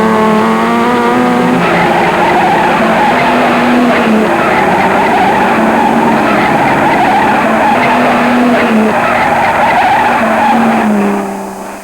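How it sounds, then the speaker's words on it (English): A racing car drifting with all four wheels sliding, its tires screeching in a loud, sustained, wavering squeal over engine roar for the whole stretch, close by and without speech. "put your foot hard on the accelerator, which then gets the car drifting"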